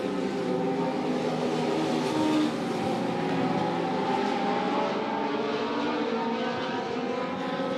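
Race cars lap the oval at Monett Motor Speedway under green-flag racing, a steady, dense engine roar that holds loud and unbroken throughout with no clear pass-bys standing out.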